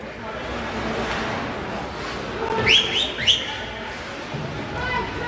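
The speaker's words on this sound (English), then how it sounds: "Some whistling going on up here." A few short whistles cut through a steady crowd murmur at a high school hockey game, brief rising blasts close together before the noise settles back.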